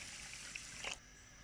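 Water is poured into sugar to make syrup for carrot murabba, a faint, steady trickle lasting under a second before it stops, with no talking.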